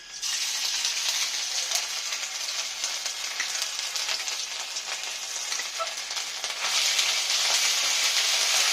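Steady, close sizzling of ginger-garlic paste frying in a hot pan, a dense hiss that stays constant and swells a little louder near the end, with faint scattered crackles.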